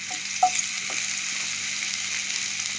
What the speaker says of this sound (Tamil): எண்ணெய் நல்லா சூடானதுக்கப்புறம் இந்த கொண்டக்கடலையை ஒன்று ஒன்றா போட்டு பொறிச்சு எடுத்துடலாம்